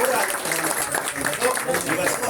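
An audience claps at a gathering honouring a doctor: dense, steady applause from many hands, loud and continuous throughout.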